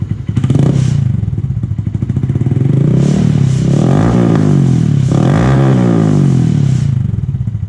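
A Honda Grom 125 motorcycle with a loud aftermarket exhaust, baffles removed, idles close by, rumbling unevenly and blipping the throttle a few times into short revs.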